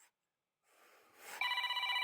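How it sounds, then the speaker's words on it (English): After a brief near-silence and a soft rising rustle, a mobile phone ringtone bursts in loudly and keeps ringing in a steady, bright, tonal pattern close by, with no talking. "I need to answer my phone."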